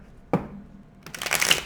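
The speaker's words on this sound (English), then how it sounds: "We're going to go ahead and shuffle the cards." Tarot cards being shuffled by hand: a single sharp riffle snap, a pause, then a denser flurry of papery riffling close to the listener, with no voices.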